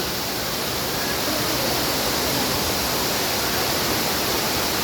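Cambugahay Falls on Siquijor island roars as a steady, loud waterfall, a dense unbroken wash of falling water that stays even from start to finish with nothing else standing out.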